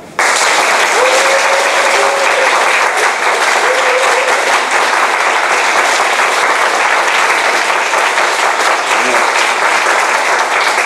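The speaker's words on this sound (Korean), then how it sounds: "이인호 목사님을 박수로 모시겠습니다." A church school audience gives loud, sustained applause to welcome Pastor Lee In-ho, thick continuous clapping that fills the whole stretch, with a brief tonal voice-like sound early on.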